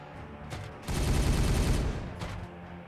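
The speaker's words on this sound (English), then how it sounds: "Firing on target." Gunfire from the PC strategy game Warhammer 40,000: Regicide, with a brief shot, then a dense roaring burst of rapid fire lasting about a second, then another short shot, loud and with no talk over it.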